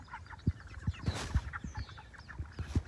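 Broiler chickens on pasture cluck in short, low, rhythmic bursts, several birds close by, with soft rustling between the calls and no talk.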